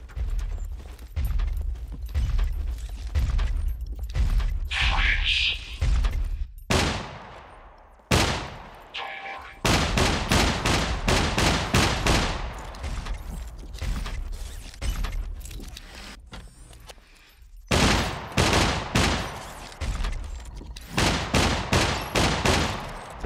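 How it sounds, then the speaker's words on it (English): Rapid bursts of gunfire from the video game SCUM, the shots growing quicker and denser over time, loud and close, with a few brief pauses and mechanical clatter between volleys. "if you let them continue shooting at you, those guns speed up"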